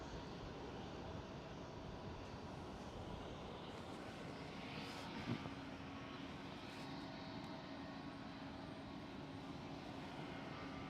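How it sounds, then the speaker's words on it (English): A Finnair Airbus A350 airliner at Amsterdam Schiphol produces a faint, distant, steady engine rumble that holds evenly across the whole stretch, with no voices over it. "And there is Finnair A350."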